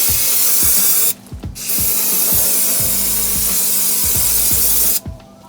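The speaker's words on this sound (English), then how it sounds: "Then we're gonna clean off with some brake clean." Brake cleaner sprayed onto a new front brake rotor on a 3rd-gen Toyota 4Runner, a loud close aerosol hiss in two long bursts with a short break, plus faint rubbing knocks underneath.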